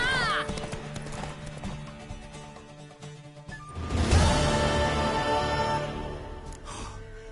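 A horse in The Witcher 3 video game clip-clops and whinnies, a high neigh at the start followed by hoof beats and a burst of noisy action, with game voices speaking over parts of it.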